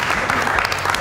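Attendees at a pre-production meeting for a fashion show burst into a short, close round of clapping mixed with scattered voices and cheers, loud and over within about a second.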